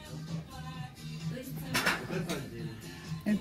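Porcelain plates being handled at an antique market, with soft clinks and scrapes of crockery beneath steady talk.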